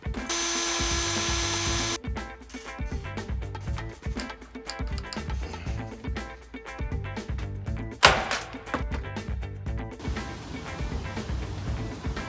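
A power drill driving an easy out into a stuck brake bleeder on a 1997 Ford F-350 whirs in short bursts, with a sharp motor whine at the start and a sudden clank partway through.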